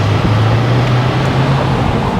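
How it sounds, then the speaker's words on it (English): Steady low idle rumble from a 2003 Mercedes SL500 (R230) V8 exhaust inside a warehouse, a continuous deep drone with broadband hiss, moderately loud and unbroken, no talking. "you can probably hear the exhaust note a little bit, especially inside this warehouse"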